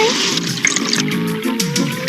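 Cartoon water sprays and gushes in a steady hiss as characters are hosed down with cold lake water by Hose Nose, loud and continuous.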